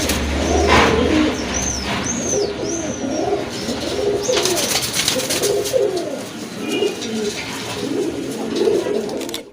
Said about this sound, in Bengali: কবুতর আছে মাদিটা হচ্ছে টকটকে লাল কালার